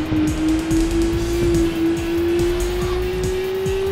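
A car engine in the PS1 racing game Kattobi Tune runs at full throttle, a loud, steady, slowly climbing whine close up with a buzzing rasp beneath, alone.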